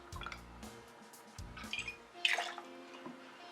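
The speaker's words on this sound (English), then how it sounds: "we're going to add in ½ an ounce of simple syrup" Simple syrup poured into a cocktail glass for a Kentucky Tea, heard as soft close drips and trickles in a few short bursts, quiet and without talk.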